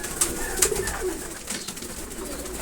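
Pigeons cooing in a loft, soft throaty coos repeating close by over a low steady background hum.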